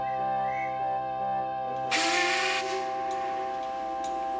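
A steam engine's whistle sounds from about the midpoint, a loud bright blast that cuts in abruptly and then trails off as if echoing across a valley, over a steady background of sustained musical tones.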